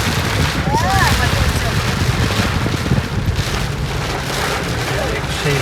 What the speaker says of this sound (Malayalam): രക്ഷയില്ലാത്ത മഴയാണല്ലോ.